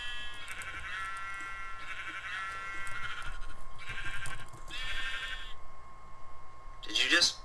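Minecraft sheep bleat in short, nasal bursts, about five of them spaced through the scene. Players chat over them, and a brighter crackling blip sounds near the end.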